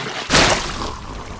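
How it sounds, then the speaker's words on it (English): Water gushes from a leaking faucet, a sudden loud splashing burst that settles into a steady hiss and trickle. "Suddenly, they spotted a little faucet leaking water."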